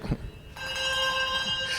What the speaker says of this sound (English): Shake the bell.